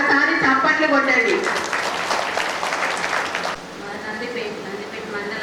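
Crowd applause at a large rally in Armoor swells for about two seconds and then cuts off. A voice speaks just before it and faint talk follows.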